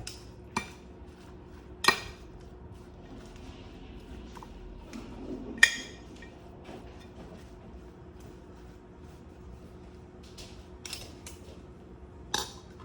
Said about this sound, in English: I'm gonna take another spoon here so I can mix it